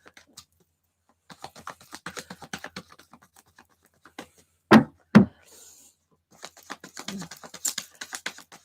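Tarot cards being shuffled in a series of soft, rapid riffling taps over roughly three seconds, then two sharp knocks and a second burst of quick shuffling.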